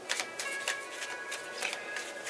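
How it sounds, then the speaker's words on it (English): Tarot cards are shuffled in quick, close riffling bursts, several soft papery flutters in an uneven rhythm. "Three shuffles."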